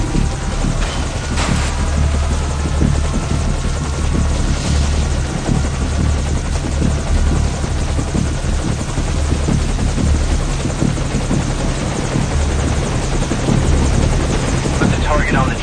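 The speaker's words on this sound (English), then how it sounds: "Okay, the enemy has spotted our helicopter," A helicopter in the video game Metal Gear Solid V: Ground Zeroes flies through a night mission, its rotor throbbing loud and steady throughout with a low, pulsing drone.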